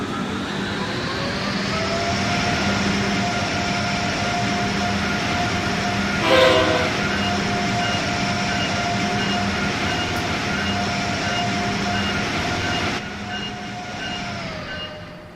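An Amtrak Acela high-speed train in Train Sim World 3 hums along steadily with a loud, continuous electric motor whine and rail rumble, a brief louder burst midway, then the tone eases slightly near the end; no voices.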